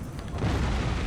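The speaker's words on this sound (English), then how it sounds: "I'm taking shots at his cav over there with my artillery unit" An artillery unit fires in Empire: Total War, producing a short, heavy, rumbling boom that fills the whole moment, close and loud.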